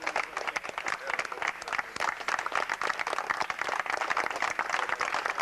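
An audience at a 1996 memorial medal ceremony in Buccheri, Sicily applauds with dense, steady clapping that stays fairly even throughout, with faint voices mixed in beneath.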